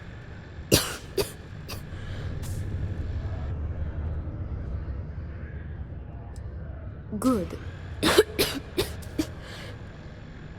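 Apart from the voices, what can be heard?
character coughing in video game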